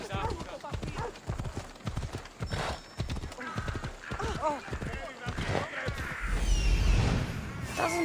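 Horse hooves clip-clop steadily at a gallop in the video game Assassin's Creed Odyssey, close and loud, with a whinny and game music, and a voice speaks over the hoofbeats.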